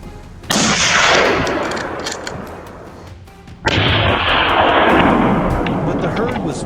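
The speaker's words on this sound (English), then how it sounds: "Gunshots cracked through the air," Two heavy gunshot-like blasts sound during a wild boar hunt, each a loud sharp crack followed by a long rumbling decay, spaced about three seconds apart.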